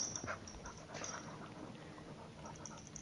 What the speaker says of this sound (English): You can hear her panting.